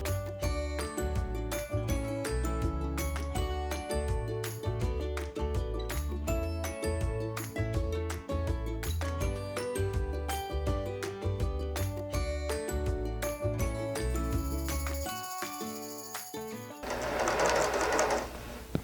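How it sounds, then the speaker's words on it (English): A sewing machine quilts layers of fabric for a microwaveable bowl cozy, with a fast, steady needle chatter running continuously for many seconds at close range before slowing into a brief final burst of stitching. "I'm gonna do that right now and take it over to my sewing machine."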